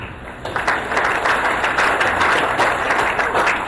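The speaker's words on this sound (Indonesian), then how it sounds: "Aplaus untuk itu." Audience applause at a university new-student orientation ceremony, a dense, steady crowd clapping that swells in after a short pause and continues loudly on its own.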